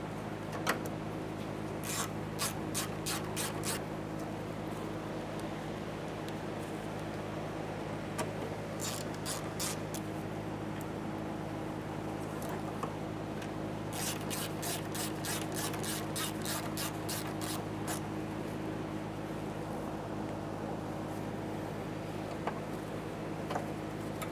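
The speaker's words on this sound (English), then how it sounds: "Once you have both of those in and tight, you can continue tightening this fitting." Faint bursts of rapid ratchet-like clicking come and go over a steady low hum as a fuel pump fitting is tightened on a 1994-1997 Honda Accord, close but quiet.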